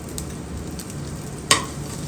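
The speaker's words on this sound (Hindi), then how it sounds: "अब ये जो कमरकस है इसे भून लेंगे हम लोग" Kamarkas roasting dry in a pan for panjeeri, with a soft continuous crackle and a sharp scrape of stirring near the end, close and quiet.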